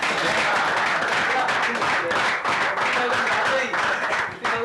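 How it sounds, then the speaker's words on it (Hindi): An audience claps continuously in a dense, steady round of applause to welcome someone at a cricket club gathering, with talk mixed in over the clapping. "आप तालियां से उनका स्वागत करें।"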